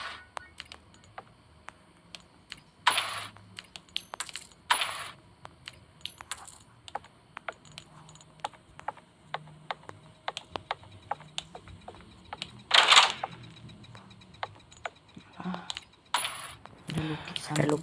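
Coins being collected in the Roblox game Doors: short bright metallic clinks and jingles arriving in scattered bursts over a faint ticking game background, with light talk in places.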